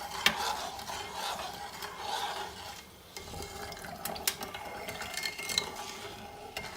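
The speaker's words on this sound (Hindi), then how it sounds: "और इसको बराबर चम्मच चलाते जाएंगे" A spoon stirs milk and sugar in a pot set to boil for homemade condensed milk, scraping and clinking against the metal in irregular, fairly close strokes with soft liquid swirling underneath.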